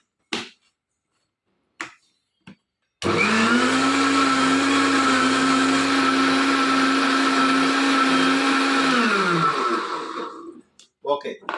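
Mixer grinder blending bitter gourd with tomato into juice: after a few short clicks, the motor roars loud and steady for about six seconds, then winds down and stops.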